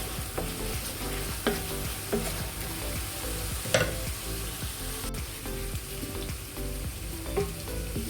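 Chopped onion frying in a pan as the base for chicken tikka masala, a steady close sizzle with soft stirring scrapes and a few louder clinks, with no talking.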